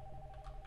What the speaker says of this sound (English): I'm gonna pick up the phone.